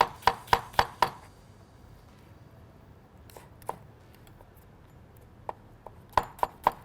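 A knife slices an onion thinly on a board in quick bursts of crisp, sharp chops, four at the start and a few more at the end, with scattered single taps and a quiet stretch between, close and without talking.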